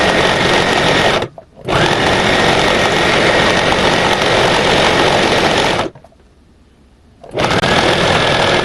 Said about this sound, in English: hit your back stitch to lock the thread in